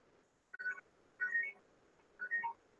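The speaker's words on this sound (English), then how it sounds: "Oh, my phone's making noises." A phone beeps in three short, separate bursts of two or three electronic tones each, evenly spaced and fairly quiet over a faint background hum.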